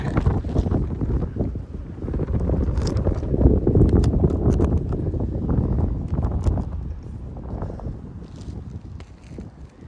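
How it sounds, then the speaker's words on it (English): Gusty wind blowing outdoors buffets the microphone with loud low rumbling that surges in the middle and eases toward the end, with no talking. "That wind kicking up again."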